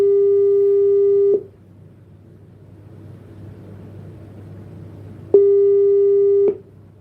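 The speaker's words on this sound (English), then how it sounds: "Please let us return this phone call first before we continue." A telephone line tone sounds while a missed call is returned: a steady electronic beep holds for over a second, a stretch of low background hum follows, then the same tone repeats.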